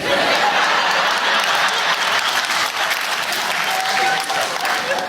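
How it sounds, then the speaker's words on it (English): An audience claps steadily at a talk, loud, dense, continuous applause mixed with a few chuckles, lasting several seconds. "Don't clap first."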